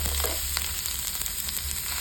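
Onion and three green chillies sautéing in a pan, a continuous moderate sizzle with a few faint stirring clicks.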